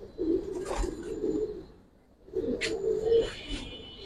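Old-breed Giribaz pigeons in a loft give two low, throaty coos, each a rolling burst separated by a short pause, close by with faint chirps above and no talk.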